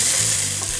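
Diced onion stir-frying in a hot pan, a loud continuous sizzle with a brief scrape of stirring, no voices.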